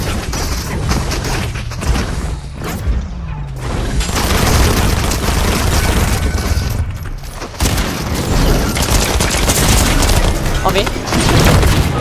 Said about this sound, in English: Is everyone shooting each other?